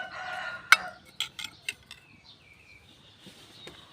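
A rooster crows at a distance after a few clinks and knocks close by, the call thin and drawn out.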